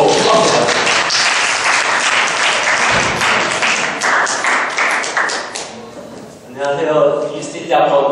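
Audience applause and clapping for a seminar presenter at a university team talk, dense and loud for about six seconds before thinning out, with voices and a few scattered claps following.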